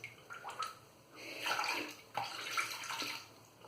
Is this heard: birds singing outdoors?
no